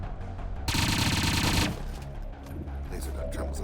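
Laser gunfire in the XCOM 2 video game: one loud, sustained burst of rapid crackling shots lasting about a second, rising sharply above steady game ambience and fading back down.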